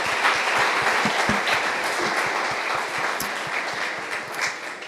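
A church audience claps together in sustained, dense applause, the many hands close and fairly loud, holding steady throughout with no talking.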